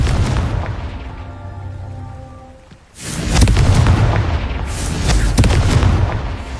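Booming blast of the Confringo fire spell in the Hogwarts Legacy video game, a loud rumbling explosion that swells after a brief dip and keeps roaring through the rest of the moment, with no talking.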